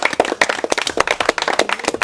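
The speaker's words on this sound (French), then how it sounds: "On peut s'applaudir quand même." A group applauds together at the end of a real-life Werewolf game shoot, with dense, uneven claps spread through the whole stretch, close and fairly loud.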